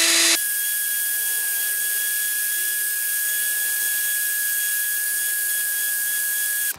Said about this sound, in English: we've got the pin in the drill chuck. We've already started polishing it